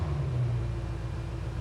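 A BMW F90 M5 with its V8 engine idling after a cold start, a steady deep rumble held close and loud without break.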